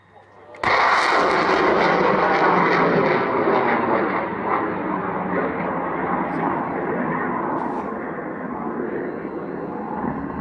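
A missile launch at the Vayu Shakti 2022 air power demonstration: a sudden loud blast followed by a sustained, rushing roar that carries on for several seconds and eases off only slightly, with jet-like noise blending in.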